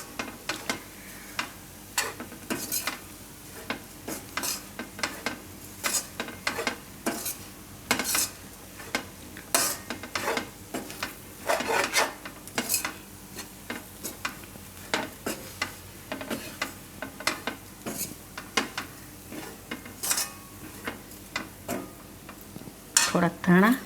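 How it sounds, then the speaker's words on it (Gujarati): A spoon stirs and mixes a roti upma snack in a sizzling pan, with irregular scraping clinks against the metal over a steady frying hiss, close and moderately loud throughout. "હવે આને મિક્સ કરી લેવું આમાં."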